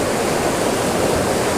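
Turbulent water roars steadily through an opened lock gate on the River Nene, a dense, continuous rushing wash heard close and loud, with no voices over it.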